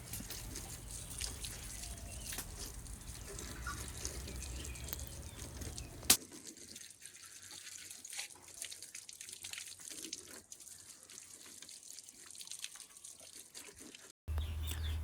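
Water splashes and trickles steadily over a motorbike during a rinse, with a sharp knock near the middle and a duller, quieter stretch of flowing water afterward.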